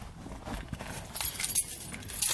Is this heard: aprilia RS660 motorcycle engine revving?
no